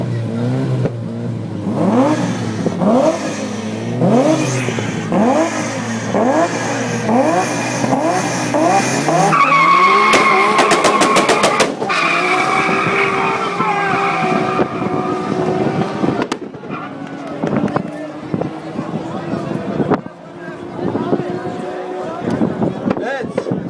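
A Supra-engined drag race car at a drag racing final in Çorum revs hard in repeated rising bursts, then holds a loud, climbing engine note as it accelerates away.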